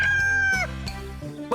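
A rooster crows loudly and close, a harmonically rich, slightly wavering call that bends downward at its end, followed by shorter clucking notes.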